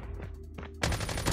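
AK-47 fire in the mobile shooter COD Mobile: a quiet pulsing lead-in, then a loud, close burst of rapid automatic shots.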